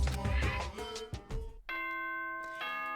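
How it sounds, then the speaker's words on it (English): A video game chime from Danganronpa rings out with sustained, bright bell-like tones in a ding-dong pattern, starting after a burst of mixed game sounds and holding steady to the end. "Ding dong bing bong."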